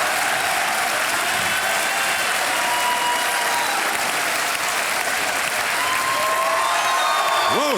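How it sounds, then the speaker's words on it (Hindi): A studio audience on a quiz show claps loudly and steadily for the full stretch, a dense sustained applause with a faint crowd murmur and a rising musical tone entering near the end. "तालियां बजती रहें।"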